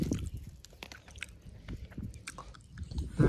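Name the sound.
eating fried fish, biting and chewing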